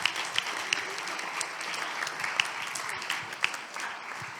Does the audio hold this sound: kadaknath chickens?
no